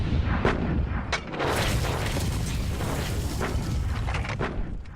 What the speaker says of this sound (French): À 8 h 30, chaque base américaine à proximité fait feu pendant 90 minutes.